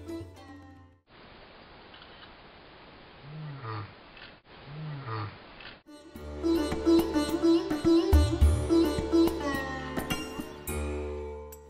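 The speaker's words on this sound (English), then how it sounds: "to see and hear an African lion coming across" An African lion roars out on an open plain: a few deep moaning grunts stand out over a steady noisy background, followed by a louder, busier stretch with music-like tones.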